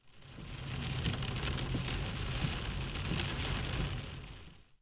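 Steady rain pours down in Erzurum as a cold snap arrives, a dense, even hiss of falling drops lasting throughout, with no voices.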